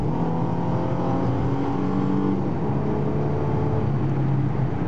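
A Ford Mustang V6 with a Pypes dual exhaust idles and is revved, a steady low exhaust rumble that swells slightly, close by with no talking.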